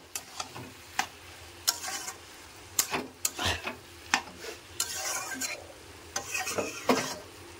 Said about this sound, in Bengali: চিনিটা দিয়ে আমি একটু ভালো করে নেড়ে দেবো।